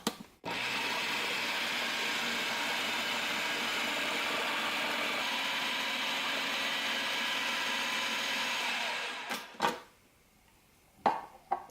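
Blender running steadily on low, whirring through hummus with tahini and lemon juice for about nine seconds, a loud even motor whine that cuts off abruptly, followed by a few clunks of the jar.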